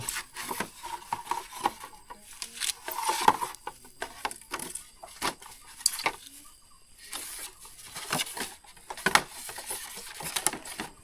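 Rain falling at a rural Thai home after a trip out to the garden, heard as an irregular patter of drops on wood or a roof, rising and thinning in uneven bursts with no talk over it.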